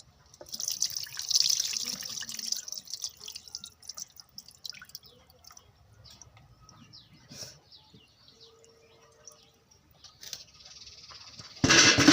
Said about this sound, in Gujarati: હવે ભાત ધોઈને ઓરી દઈએ ભાત ધોઈ નાખીએ